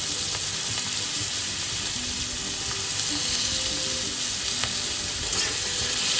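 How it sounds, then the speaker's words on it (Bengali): Sliced onions dropped into a pan of garlic for a vegetable sauté sizzle loudly and steadily, with occasional soft scrapes of stirring over the continuous frying hiss. "আমরা দিয়ে দিলাম পেঁয়াজ।"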